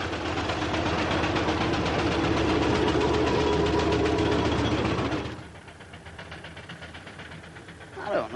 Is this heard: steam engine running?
yes